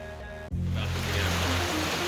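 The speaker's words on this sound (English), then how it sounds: "You guys can even hear it's pouring rain." Heavy rain pours steadily on the Appalachian Trail, a dense, loud hiss that starts abruptly after half a second and continues without a break.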